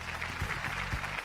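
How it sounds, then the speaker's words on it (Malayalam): A reality-show studio audience claps in a short, soft burst of applause, brief and fairly distant. "നല്ലൊരു കൈയടി."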